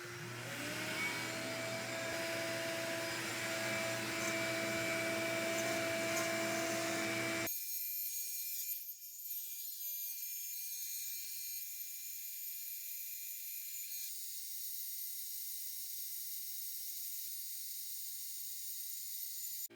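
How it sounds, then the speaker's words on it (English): A CNC router runs a clearing pass with a 1/8 inch end mill, cutting a large clock. A loud, continuous whining roar holds for several seconds, then drops to a thinner, quieter hiss that carries on steadily. "So now I have the 1/8 inch end mill in for the clearing pass. We'll run that"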